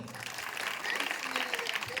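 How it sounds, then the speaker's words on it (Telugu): Applause at a school motivational talk in a rural Telangana high school, soft distant clapping from students and teachers, steady but faint, with a voice speaking over it. "round of applause"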